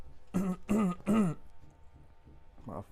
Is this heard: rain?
no